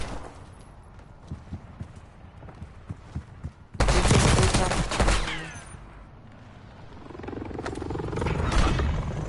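Gunfire in the Warzone battle royale video game, scattered light shots before a sudden loud burst of rapid fire that fades, then more distant firing later.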